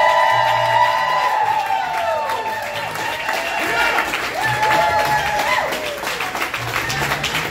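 Wedding reception crowd cheering, whooping and applauding for the bride and groom, Chey and Mike, a loud sustained burst of clapping and shouts filling the room with excited voices throughout.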